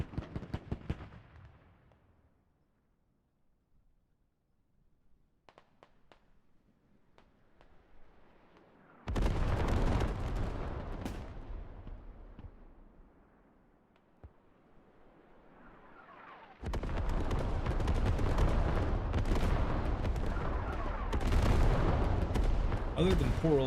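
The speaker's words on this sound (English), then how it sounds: "Sounds like artillery on the way." Artillery fire in the Squad military shooter, heavy booming blasts arriving in two long loud bursts, each a dense roll of rumbling impacts, separated by quieter stretches with scattered distant shots.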